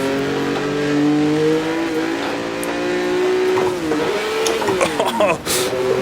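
A 1958 Formula One race car engine in the Automobilista racing game drones steadily, then flares into a sharp, uneven rev as a shift to third gear is badly missed, with pitch swinging up and down before settling near the end.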